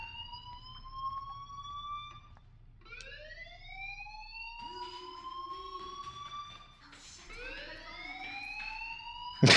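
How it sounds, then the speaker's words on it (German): School fire alarm in Life Is Strange wailing in repeated rising electronic tones, steady and moderately loud, with a faint low background hum beneath. "Do you hear that fire alarm?"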